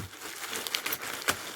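Thin plastic bag crinkling and rustling as small items for a homemade time capsule are packed into it, soft close-up crackles with a few sharper crinkles near the end, no talking.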